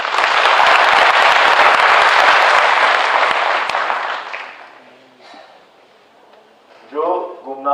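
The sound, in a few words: audience applause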